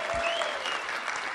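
Short burst of applause from a conference audience at a direct primary care summit, a dense patter of clapping hands that stays steady for about a second and a half.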